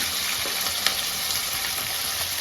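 Onions frying in a pan for a Punjabi cauliflower-stalk sabzi, a steady, close sizzle with constant hiss and a faint clink or two, no talking.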